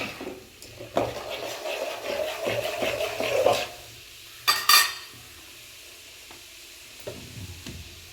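Roasted split chickpeas are stirred in a pan with a spoon, making a few seconds of close scraping and rattling over a light sizzle, followed by a couple of sharp clatters and then quiet.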